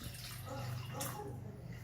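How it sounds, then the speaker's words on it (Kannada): Water pours steadily into a pot, a continuous rushing and splashing as it fills before Maggi noodles are cooked in a child's kitchen. "ಇದನ್ನು ನಾನು ನೀರು ಫುಲ್ಲು ಹಾಕ್ತೀನಿ"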